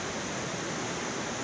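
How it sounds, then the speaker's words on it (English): A steady broadband rush of falling water from a waterfall, even and unbroken throughout with no distinct events standing out. "So there's a beautiful waterfall"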